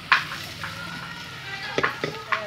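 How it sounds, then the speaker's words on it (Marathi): Onion, tomato and green chillies fry in a pan with a soft continuous sizzle, punctuated by several close scraping stirs of a spoon against the pan. "आता आपलं आहे ना कांदा आणि टमाटर चांगलं परतलंय."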